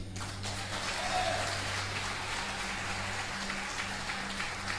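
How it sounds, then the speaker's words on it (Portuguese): A church congregation applauds Jesus during a sermon. Soft, diffuse clapping spreads evenly across the room at a moderate distance over a low steady hum, with no clear voices. "Aplauda Jesus aí"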